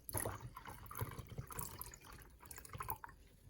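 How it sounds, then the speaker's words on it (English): Water is poured into a container of sugar, with gentle splashing and dripping trickles over about three seconds, fairly faint and close. "Place the spoon in a container and add water."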